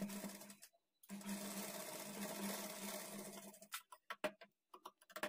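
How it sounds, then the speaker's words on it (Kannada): Close, steady whirring of a sewing machine running a double stitch along a blouse lining, about three seconds continuous, then breaking into several short clicking bursts as the seam is finished. "ಇದ್ರ ಮೇಲೆ ಡಬಲ್ ಸ್ಟಿಚ್ ಹಾಕ್ಕೊಳ್ಬೇಕು"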